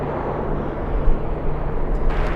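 A Boeing 787 airliner bound for Hong Kong at LAX on a windy day, its engines giving a steady, loud broadband roar that swells slightly and holds throughout.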